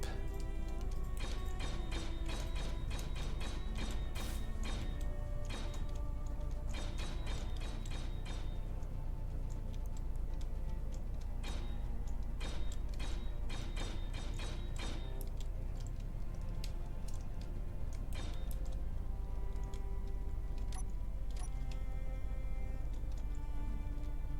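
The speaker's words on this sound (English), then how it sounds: "Let me just weld these up." Steel plates being welded in the video game Space Engineers: a continuous, dense mechanical grinding and clanking with rapid ticking pulses and tonal hum, loud and steady throughout with no speech.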